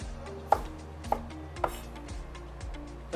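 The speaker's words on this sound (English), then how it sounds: "Going to slice strips." A knife slices a red pepper into strips on a cutting board, giving three crisp, evenly spaced chops close up over a faint steady background hum.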